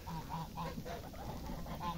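Geese honk repeatedly in a garden of raspberries and thornless blackberries, a series of close, nasal calls in an uneven rhythm over a steady low background.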